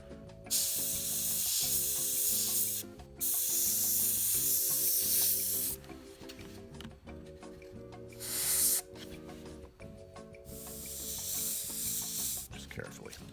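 An airbrush sprays paint onto a 28mm A15 Crusader model tank in several steady hissing bursts with short gaps between them, over soft background music.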